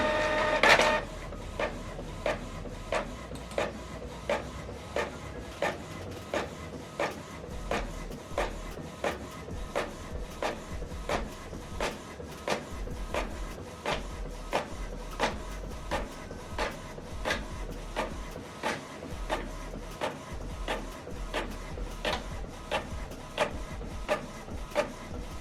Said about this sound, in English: You can see the document is printing out.